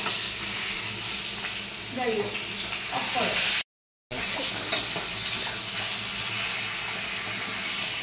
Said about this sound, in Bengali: প্রথমে যে বললাম মাছটাকে ভালো করে এখন ভেজে নেবো